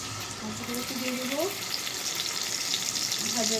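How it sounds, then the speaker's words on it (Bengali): Tilapia fish frying in hot oil in a pan, a steady bright sizzle throughout, with faint voices in the background. "এটাকে আমি লাল লাল করে ভেজে নিব।"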